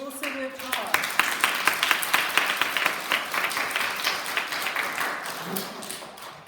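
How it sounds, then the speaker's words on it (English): An audience at a school celebratory assembly for young grade learners claps together, a dense run of sharp, fairly quick claps that swells and then gradually thins out. It is heard at moderate distance, with faint voices in the background. "let's give your teachers a big clap because they've also worked hard."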